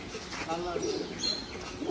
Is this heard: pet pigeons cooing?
yes